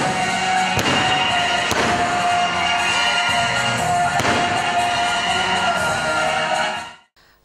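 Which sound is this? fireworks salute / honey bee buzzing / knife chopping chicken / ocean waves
fireworks salute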